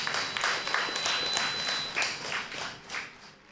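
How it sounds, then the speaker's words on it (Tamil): An audience applauds at an annual dance programme, a moderate patter of clapping hands that swells, then thins and fades toward the end. "இந்த ரசனை மிகுந்த படைப்புக்கு மேலும் ஒரு பலத்த கைத்தட்டு"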